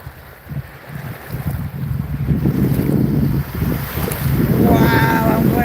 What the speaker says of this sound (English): Oh, here comes some more waves, guys. Ooh, a big wave.